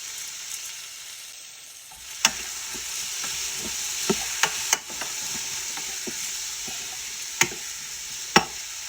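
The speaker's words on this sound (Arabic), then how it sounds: "عندنا هنا ملح وفلفل اسود وكركم وبهارات مشكلة، ننزلها وبعدها ننزل اللحم" Salt, black pepper, turmeric and mixed spices sizzle steadily in a hot pot for a veal and carrot muqalqal, with scattered sharp clicks and scrapes of stirring over a continuous close frying hiss.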